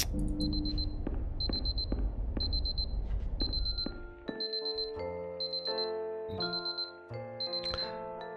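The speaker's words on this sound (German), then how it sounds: "Weckergeräusche." Repeated electronic alarm clock beeps in short bursts ring over a music bed in the puzzle video game Superliminal, loud and insistent for several seconds.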